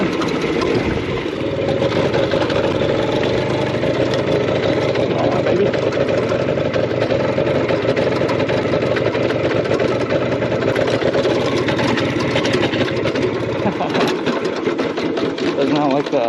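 A rare 1960s Ducati scooter engine runs roughly in second gear, a loud, continuous buzzing drone with an uneven, sputtering texture, while someone speaks over it.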